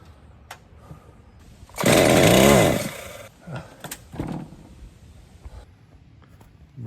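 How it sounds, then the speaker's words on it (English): A loud mechanical roar bursts out for about a second and a half, then cuts off, followed by quieter clunks and rustling, like a hard-starting chainsaw briefly catching during tree removal. "Starting this fucking chainsaw is a pain in the ass."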